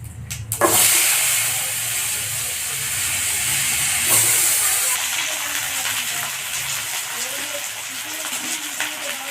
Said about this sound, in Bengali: এই মাছের জন্য লম্বা লম্বা করে আলু কেটে নিয়েছি এবার আমি তেলের মধ্যে দিয়ে দেবো